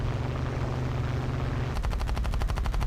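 Aircraft machine guns firing in War Thunder Mobile, a loud, rapid, evenly spaced burst of shots breaking out over steady engine drone partway through and continuing to the end.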